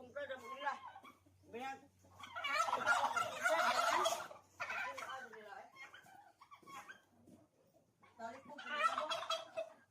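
Turkeys on a farm gobble in loud bursts, one long rattling burst dominating the middle, with a person speaking between and around the calls.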